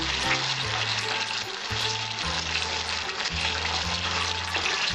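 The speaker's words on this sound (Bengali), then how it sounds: "এবার আমি ভালো করে একটু কষিয়ে নেব" Spices and koi fish fry in hot oil in a pan for tel koi curry, a steady, dense sizzle that carries on without a break, with faint tonal sounds in the background.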